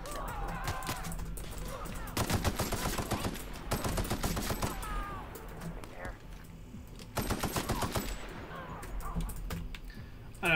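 Rapid bursts of automatic gunfire in a video game, set in LOTR: Return to Moria or The Outer Worlds, come in three long volleys with short gaps between them, and faint voices and keyboard clicks sit underneath.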